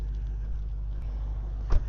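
A stock-exhaust Dodge Hellcat idles in track mode with a low, steady rumble that holds even throughout, with one brief louder blip near the end.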